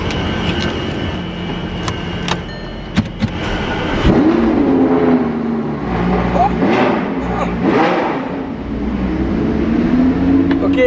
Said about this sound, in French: on va entendre une Lambo qui fait beaucoup de bruit